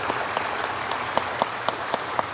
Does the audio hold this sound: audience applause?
yes